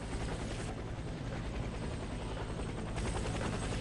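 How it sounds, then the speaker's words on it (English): A video game helicopter thrums steadily and loudly, its dense rotor chop filling the whole stretch without pause and with no voices over it. "Oh, where'd the helicopter come from?"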